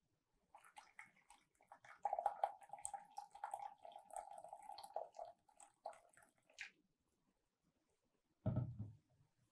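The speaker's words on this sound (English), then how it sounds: "I will add a little bit more water." Water is poured into a container for a balloon heat experiment in a classroom, giving a faint trickling and splashing that runs for several seconds, stops, then returns in a short louder burst.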